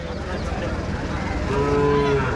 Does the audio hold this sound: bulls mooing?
yes